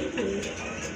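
A large racer pigeon gives a short low coo up close, heard over a constant background hum.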